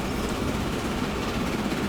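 A train rolls past in the Transport Fever 2 game, a steady broadband rumble with low-end weight held at an even loudness for its brief run, no talk over it.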